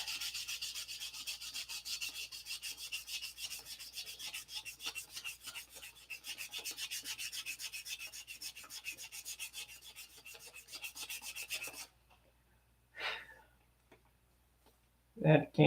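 Sandpaper is worked back and forth by hand in fast, even, scratchy strokes for about twelve seconds, close and fairly loud, then stops, leaving near quiet with a few faint knocks.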